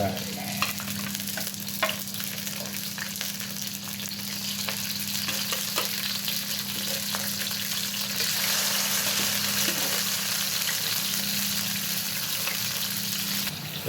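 Chicken pieces frying and being stirred in a pan, a steady sizzle with scraping stir strokes throughout, no talk.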